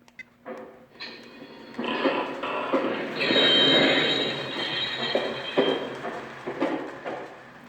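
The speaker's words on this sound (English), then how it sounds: "it would take a little bit of time to get the train running again" A Lionel model train with refrigerator cars rolls along its track with a rising and falling rumble and clicking wheels, louder in the middle before fading.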